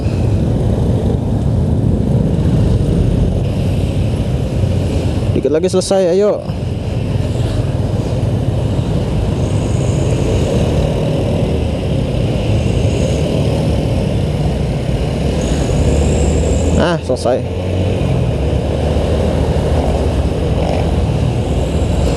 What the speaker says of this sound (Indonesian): Tes macet-macetan gini kan gue jadi makin mahir gue bawa motor manualnya.